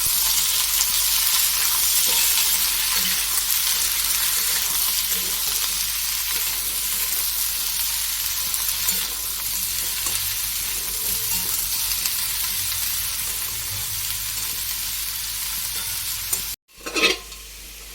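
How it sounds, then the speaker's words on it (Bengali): Pieces of meat fry with salt, turmeric and a little oil, giving a steady close sizzle with stirring scrapes, then a brief sharp knock near the end. "লবণ হলুদ আর সামান্য পরিমাণে তেল দিয়েছি, এটা হালকা করে একটু ভেজে নিই"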